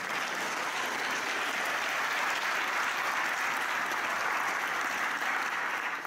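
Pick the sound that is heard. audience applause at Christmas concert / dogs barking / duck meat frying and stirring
audience applause at Christmas concert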